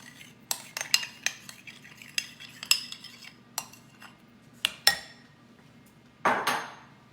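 A spoon scrapes and clinks in a bowl as a mixture is stirred into squash for a squash casserole, with a series of close, irregular taps and a louder scraping swirl near the end.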